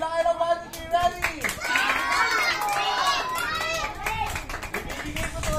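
Children clap loudly at a first birthday party, bursts of clapping mixed with excited young voices and shouting that carry on throughout, close and busy.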